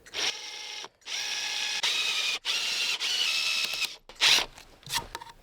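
Power drill enlarging a hole in green oak rail to knock out a stuck drill bit, several sustained whirring bursts broken by brief pauses, then two short revs at the end, close and fairly loud.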